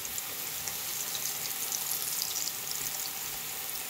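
Plantains fry in a pan over a low flame, giving a steady, soft sizzle and crackle that carries evenly throughout with no voices.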